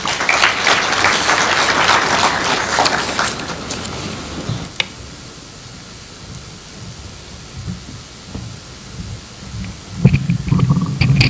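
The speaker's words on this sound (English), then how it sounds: "Another round of applause for Honorable Mokaya." A crowd at a Kenyan presidential event after the swearing-in applauds loudly and densely for about four seconds, then the applause thins to a quieter murmur with scattered claps and picks up again briefly near the end.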